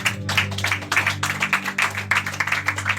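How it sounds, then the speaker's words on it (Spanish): A church congregation claps together in steady applause, a dense patter of hand claps over a sustained low organ or keyboard tone, loud and continuous with no voices. "¿Cuándo le dan un fuerte aplauso para el Señor?"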